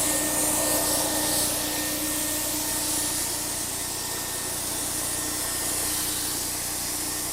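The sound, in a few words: paint spray gun sounding like vacuum cleaner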